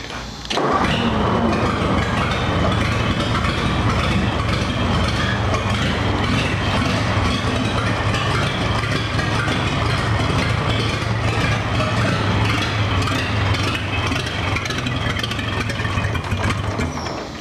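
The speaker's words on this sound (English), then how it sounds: "I'm going to see if I can get this thing to start up with a 12 volt battery" A 1935 International Harvester C1 engine cranks on a 12 volt battery and starter, then catches and keeps running with a loud, close, rough rhythmic chug that continues throughout, with no one talking.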